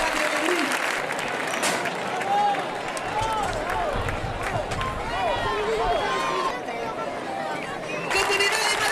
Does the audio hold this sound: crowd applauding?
yes